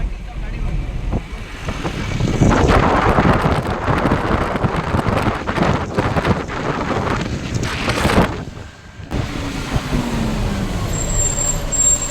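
Heavy highway traffic with trucks at the Hatilach toll plaza rumbles loudly and steadily, with wind buffeting the microphone and a voice talking over the din.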